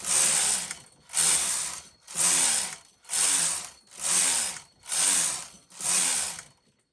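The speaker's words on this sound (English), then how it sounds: "So I'll just knit about 6 or 8 rows in waste yarn on these alternate needles." Seven even passes of a single-bed knitting machine carriage knitting rows of waste yarn on alternate needles, each a loud whirring, clattering sweep of roughly half a second with a short gap between, no voices.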